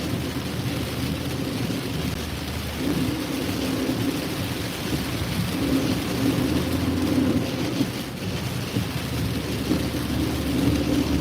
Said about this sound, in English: Can you guys hear me over the rain?